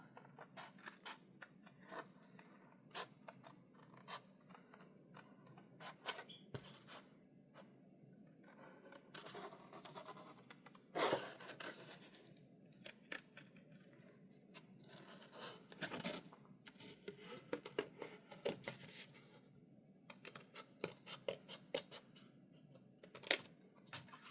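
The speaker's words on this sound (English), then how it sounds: "let's try one of these out with scissors" Scissors cut card for a greetings card in a quiet room, giving a run of crisp, close snips and scrapes in irregular bursts, some louder than others.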